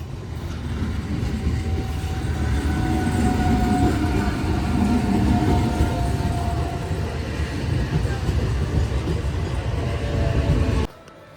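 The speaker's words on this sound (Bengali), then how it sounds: "চলো গায়েস দেখো ট্রেন আসছে, ঢুকছে, টাইম হয়ে গেছে" A train pulls into a station with a loud, sustained rumble and rolling clatter of wagons, along with a thin, drawn-out metallic tone. The noise stays heavy for about ten seconds, then cuts off abruptly.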